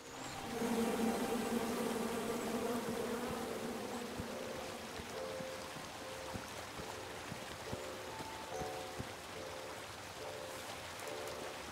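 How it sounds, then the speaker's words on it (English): Angry bees in the video game King's Quest buzz in a steady, droning swarm that starts with a louder tonal hum and then thins into lighter scattered buzzing over soft ambient game sound, with no speech. "Come at me, bees!"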